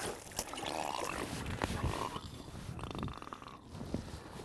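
Low, gurgling rumbles and soft bubbly bursts from a hooked fish burping up air come and go, muffled and close, with no voices over them.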